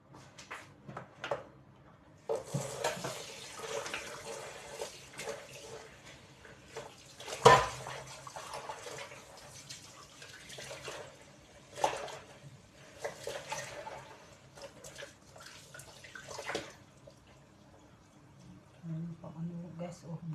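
Fish being rinsed by hand under a running kitchen tap, with splashing water in uneven bursts and a sharper clatter partway through, and a voice heard at moments.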